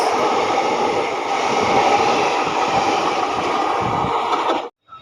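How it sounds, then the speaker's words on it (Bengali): The Siuri–Howrah Hool Express rushes past at close range, a loud, steady roar of rolling wheels and rattling carriages that holds for several seconds before cutting off abruptly near the end. "এই যে ট্রেনটা গেল সেটা হচ্ছে সিউড়ি থেকে হাওড়া হুল এক্সপ্রেস"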